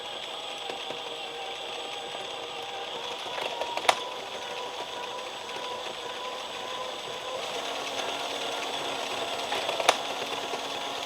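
A circular knitting machine turning economy yarn runs with a steady mechanical whir, faint and even, punctuated by a couple of sharp clicks.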